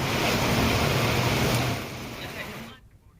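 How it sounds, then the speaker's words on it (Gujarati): Heavy monsoon downpour and rushing floodwater in Raval village, Kalyanpur taluka, Dwarka, with roads around the bus station submerged: a dense, loud, steady roar of rain and running water that eases toward the end. "દ્વારકા કલ્યાણપુર તાલુકાના રાવલ ગામે ધોધમાર વરસાદ"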